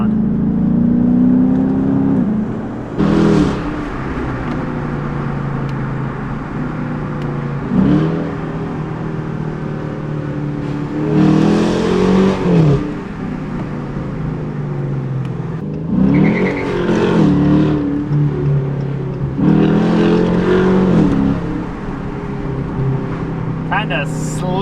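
A Dodge Challenger R/T with universal mufflers and a mid-muffler delete rumbles deeply at idle, then revs up in several loud, rising bursts that fall back to a low burble, heard up close with some talk.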